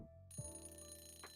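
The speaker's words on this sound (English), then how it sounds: "Oh, there's the timer." A break timer alarm goes off during a drawing and 3D art session, sounding as a clear electronic ringtone-like tone with steady sustained pitches, loud and close, with no talking over it.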